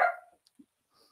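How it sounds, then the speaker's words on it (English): A single short dog bark sounds close by at the start in a home kitchen, then fades into near silence with a few faint ticks. "Sorry about my dog barking, guys."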